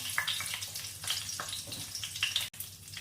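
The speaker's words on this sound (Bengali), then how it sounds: "আর দিয়ে দিচ্ছি পাঁচফোড়ন। এরপর দিচ্ছি দুটো তেজপাতা, চারটে কাঁচা লঙ্কা।" Panch phoron, bay leaves and green chillies sizzling in hot oil for bhoger labra, a close, lively crackle with sharp pops and spits over a steady fry and no voices.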